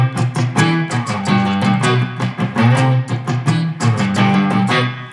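Distorted electric guitar riff built on a 1-5-6 chord progression, played with palm muting: rhythmic choppy strummed chords and tight muted hits, loud and close, with no talking.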